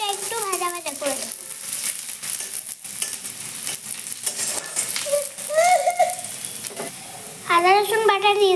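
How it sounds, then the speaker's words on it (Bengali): Chopped onions frying in hot oil in a wok during village cooking give a steady close sizzle with stirring clatter, while a voice talks over parts of it. "পেঁয়াজটা একটু ভাজা ভাজা করে দেব।"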